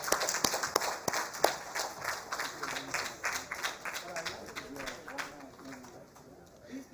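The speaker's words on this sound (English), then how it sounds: "I would like everyone to give a big round of applause for FICCI." At an award ceremony, an audience claps with a scattered, lively rattle of many hands that tapers off over several seconds, with voices murmuring underneath.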